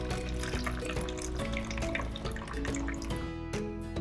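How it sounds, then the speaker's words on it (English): Water from rinsed rice pours steadily out of a bowl into a sink, a continuous close splashing and trickling with small drips, no voices. "now you use this side to stop the rice, like this. And then dump the water."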